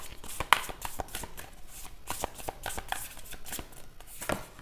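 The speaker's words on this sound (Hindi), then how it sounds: "Let me shuffle the cards." Tarot cards being shuffled by hand, a series of quick, soft riffling slaps and flicks in an irregular rhythm, close but quiet.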